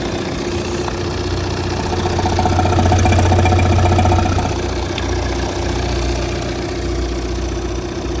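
Close, steady idle of a Volvo diesel car engine with a constant knocking rumble that swells slightly partway through before settling back, no voices present.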